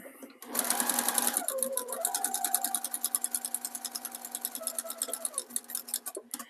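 Sewing machine stitching the binding onto a quilt, a steady fast run of needle strokes that holds for several seconds, then slows into distinct ticking stitches before stopping; close and clear, with no talking.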